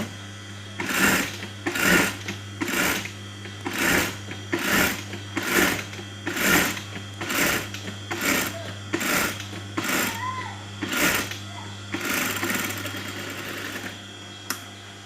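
A sewing machine stitching a kameez collar band runs in about fourteen rapid, evenly spaced bursts over a steady hum, loud and close, with a little faint talk.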